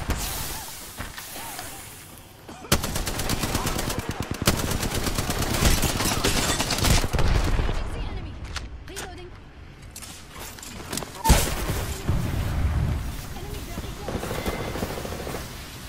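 Rapid automatic gunfire in the Apex Legends video game crackles in dense bursts over several seconds, loud and close, mixed with game sounds and talk.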